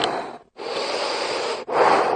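A person doing a rhythmic deep-breathing exercise paced like a chugging steam train, with loud, close, forceful breaths in long steady strokes separated by brief pauses.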